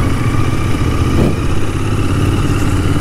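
A Royal Enfield GT 650 motorcycle engine runs close by, a steady loud thrumming drone with a strong low rumble and a slight swell in revs around the middle, with no voices.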